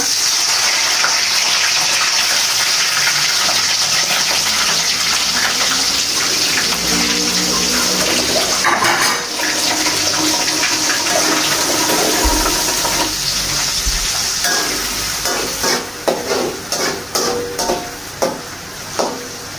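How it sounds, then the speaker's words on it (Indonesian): Salted dried squid fries in hot oil, giving a loud, continuous close hiss that swells in the middle and breaks into scattered spitting pops toward the end, with no speech. "Lanjut teman-teman, aku mau goreng cumi asinnya"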